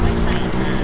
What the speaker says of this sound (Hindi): मैं हल्ला नहीं कर रहा, मेरा बाइक कर रहा है।